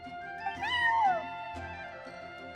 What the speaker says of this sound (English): Oh, Charcoal! So it was you! I'm sorry, that's my neighbor's cat.